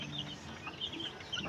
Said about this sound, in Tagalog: Ay, kinaykay ng manok.